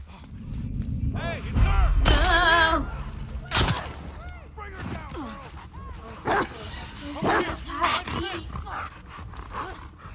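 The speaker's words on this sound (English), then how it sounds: "I hear a dog, I hear a dog." Dog barking in The Last of Us Part II's Hillcrest area: several sharp, close barks and yips mixed with loud bursts like gunfire and breaking impacts over a busy, noisy game soundscape.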